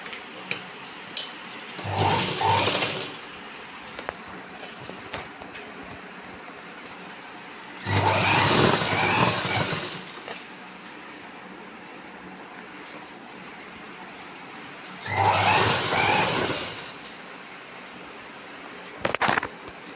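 A sewing machine stitching an old handbag, running in three separate bursts of a few seconds each, separated by quiet pauses with small clicks.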